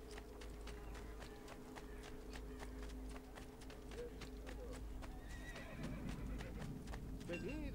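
Horse in an Assassin's Creed II game galloping with rapid rhythmic hoofbeats, neighing toward the end, over a steady low background hum of game ambience.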